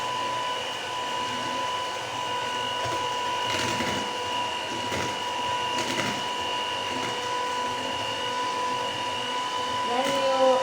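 Electric hand mixer whirring steadily through butter cheesecake batter with flour mixture, a constant motor drone with a few light knocks from the beaters against the bowl.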